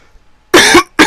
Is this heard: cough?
yes